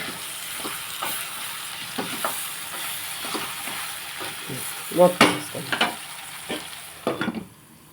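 Eggplant curry cooking in a pan with salt and turmeric, soft sizzling under repeated scraping stirs and a few louder clinks of the spoon against the pan.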